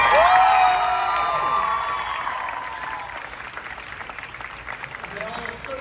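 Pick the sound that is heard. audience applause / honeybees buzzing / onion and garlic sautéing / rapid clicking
audience applause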